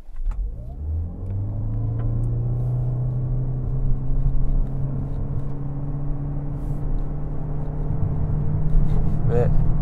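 A 2024 Toyota C-HR hybrid accelerates hard from a standstill toward 100 km/h in sport mode, its engine note rising steadily in pitch and loudness over several seconds, heard from inside the cabin.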